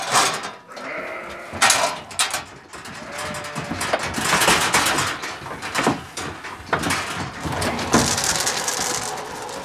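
Sheep bleat during milking on a sheep-cheese farm in Mecklenburg-Vorpommern, with several wavering calls amid clattering and knocking of gates and equipment at close range, busy and irregular throughout.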